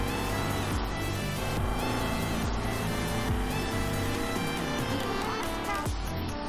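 Taxi car engine in the Taxi Simulator video game driving at full speed, a continuous loud droning roar with steady tone and slight pitch shifts, no talk.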